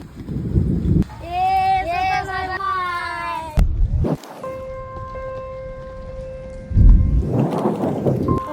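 Rain patters steadily while a low rumble of thunder rolls in, interrupted by a sung or talking voice and a few abrupt cuts.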